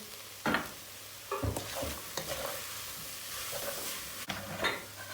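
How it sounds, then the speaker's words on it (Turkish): Roasted rice poured into a pot of meat seasoned with salt and black pepper while making pilaf, giving scattered rustling bursts and soft sizzling scrapes, close and moderately quiet, with no talking. "Kavurduğumuz pirinci döküyoruz içine."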